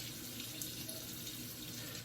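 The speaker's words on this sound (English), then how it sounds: "Let's add some water to the brush." A tap runs water onto a shaving brush for wet shaving lather, a faint but continuous hissing splash heard close up and alone throughout.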